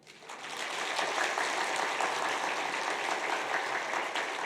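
A church congregation at a Sunday worship service applauds steadily and loudly, a sustained wash of clapping that swells in and holds without talk.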